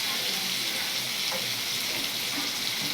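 Lote fish (Bombay duck) frying in oil with a dry, well-cooked spiced masala, giving a steady, close, even sizzle with no talk over it.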